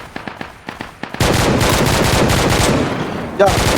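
Rifle fire from a military field training exercise in a breaching drill: a few spaced single shots, then a loud sustained stretch of rapid automatic gunfire, close and dense, with brief voices in the background.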